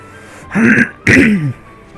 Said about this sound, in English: Excuse me. I had coughing fits